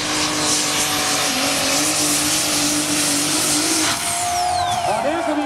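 A 3.5-tonne superstock tractor roars through a pulling run at an outdoor tractor pulling event in Brande, Denmark, its engine loud and sustained close by, with a commentator talking over it throughout.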